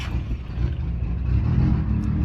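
An LS engine runs steadily in the background as its injectors clean themselves, a low, even idle rumble that swells slightly toward the end.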